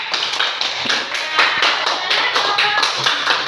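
Classroom audience clapping during a school science lesson, a brisk, rhythmic patter of many hands with regular pulses, close and lively, no talking over it.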